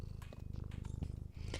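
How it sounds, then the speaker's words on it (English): A cat purrs close by in a steady, rhythmic rumble, soft and continuous. "I hear the purr."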